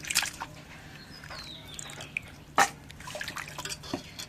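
Cut beef tripe and potatoes rinsed in water, close irregular drips, splashes and sloshing in short bursts with one sharper splash midway, no voices.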